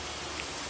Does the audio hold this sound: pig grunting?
no